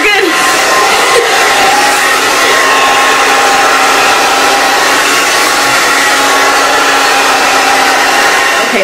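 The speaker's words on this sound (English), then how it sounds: "So I'm going to show you guys how to blow dry with this." A hair dryer blows hair dry for beach curls, a loud, steady close whir that runs unbroken for the whole stretch.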